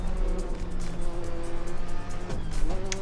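A car moves past on the road while another vehicle overtakes, steady engine and road rumble with tire hiss swelling and shifting near the end, close and continuous.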